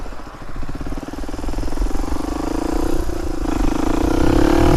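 A Honda CR250R motocross bike engine ticks over with a rough, clattering idle, then revs up steadily with a rising pitch, growing louder and close by.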